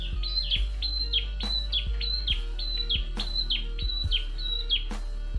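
A prinia (perenjak) songbird sings a steady series of repeated high chirping phrases at an even rhythm, fairly close and clear, with no voices over it.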